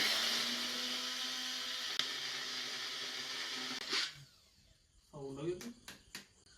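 A mixer grinder whirs loudly and steadily as it blends sugar in a jar for an Arabian pudding, then stops abruptly, leaving quieter clinks and handling noises.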